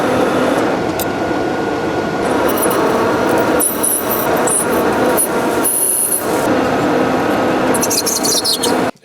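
A lathe turns a 1 3/4 inch Delrin rod, pre-drilled to 5/8 inch, into wheels for a longarm quilting machine, giving a steady loud machining whir with squealing cutting bursts and a sudden stop at the end.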